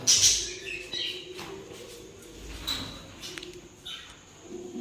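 Budgerigars chirping and tweeting in a cage in short, scattered bursts, fairly faint, over a quiet background with occasional light rustling.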